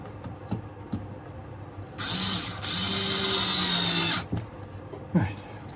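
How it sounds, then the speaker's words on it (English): A power screwdriver drives a screw while parts are fitted on a model railway layout, two short whirring bursts close by with a brief pause between, surrounded by faint handling clicks and taps. "Oh, I can get a screwdriver onto it."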